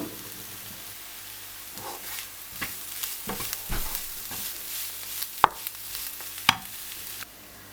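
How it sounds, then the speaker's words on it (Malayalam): Broccoli for a Kerala-style thoran sautés in a pan, giving a close, steady sizzle with irregular spatula scrapes and clinks that grow busier and sharper toward the end. "വഴറ്റി ആ പച്ചമണം മാറണ വരെ ഒന്ന് വഴറ്റി കൊടുക്കാം"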